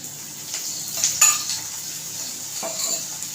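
Bitter gourd and oil in a pan give a soft, steady sizzle, with a few faint scraping and clinking utensil sounds close by and no talking.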